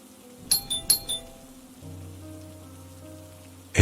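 A doorbell at a friend's house rings out in a quick series of bright electronic chimes, followed by a low sustained tonal hum in a quiet room.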